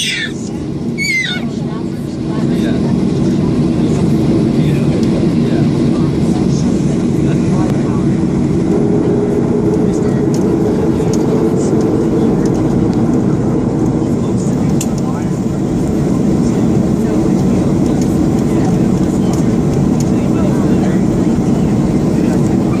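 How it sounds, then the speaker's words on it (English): Alaska Airlines airplane landing at SeaTac airport: a broad, steady engine roar and rumble holds throughout, heard from inside the cabin, with a voice talking over it. "You see the airplane?"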